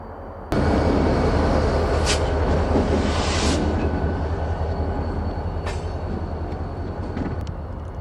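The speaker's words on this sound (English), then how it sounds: "a GP40-2, coming south with a few boxcars" A GP40-2 diesel locomotive hauls a few boxcars south past a spur in Alabama: a loud, close engine rumble rises suddenly, with rolling wheel noise and occasional metallic squeals and clanks, then fades slowly.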